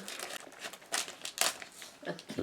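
A blade cutting open a book package, crinkly plastic and tearing bursts in short, close bursts with soft handling noise between them.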